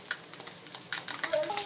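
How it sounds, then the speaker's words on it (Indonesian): Glutinous rice cake dough (ulen) fries in hot oil, giving a soft, quiet crackle and light sizzle with scattered pops heard up close. "Okay, ulennya lagi digoreng."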